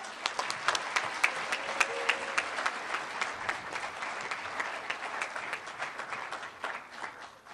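Sustained audience applause at a University of Wyoming spring graduation ceremony, a dense steady wash of many hands clapping from a large crowd in a big hall, fairly distant and even throughout.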